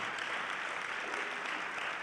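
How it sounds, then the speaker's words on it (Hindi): Steady, even applause from an audience at a Christian television show, a broad wash of clapping that holds at one level throughout with no voices rising above it. "जोरदार तालियां बजाएं।"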